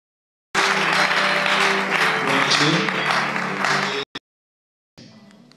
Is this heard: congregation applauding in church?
yes